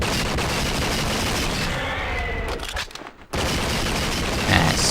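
Rapid bursts of gunfire in True Crime: Streets of LA, loud, dense volleys with a short lull before the shooting resumes.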